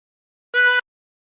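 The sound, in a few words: tremolo harmonica note, breathing in through hole 4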